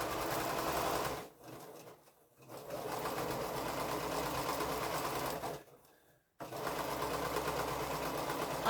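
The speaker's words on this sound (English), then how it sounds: "we'll go ahead and sew these 2 together" A sewing machine stitches two quilt pieces together along a diagonal seam in steady, even runs, stopping twice for brief pauses before starting up again.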